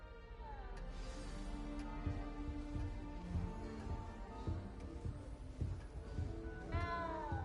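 A cat in a castle setting in a game meows several times, soft and fairly close, over a quiet background of music with light rhythmic taps and no talking.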